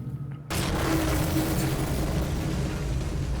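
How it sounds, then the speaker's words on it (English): A big explosion from a historical animated drama set in a time before guns bursts in suddenly as a deep boom, then rolls on as a loud, sustained rumble. "Imagine not knowing the scale of destruction of an explosion like that."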